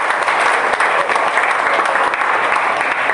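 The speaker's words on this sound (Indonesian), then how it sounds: "Ya, tepuk tangan untuk Anda semua ya." Sustained applause from a large crowd at a graduation briefing for engineering students, dense and steady clapping filling the whole stretch, loud and close.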